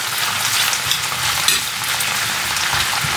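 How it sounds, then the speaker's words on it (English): Aloe vera hits a hot pan while making aloe vera butter and sizzles loudly, a dense, steady crackling fry with small pops and bursts throughout. "We add our precious Aleo Vera. You hear the noise."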